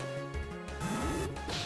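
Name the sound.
Pursuit attack sound effect in Pokemon Black video game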